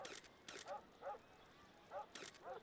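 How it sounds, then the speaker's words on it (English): A small dog in a board game gives a few quick yips and barks, faint and spaced out, mixed with soft short cries. "Come on, dog, be still."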